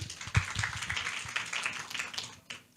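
An audience at a conservation-finance event in Peru claps for a speaker, a brief burst of scattered, moderately faint applause from a room of people.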